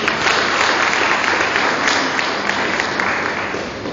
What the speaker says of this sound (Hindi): उनके लिए तालियां हो सकती है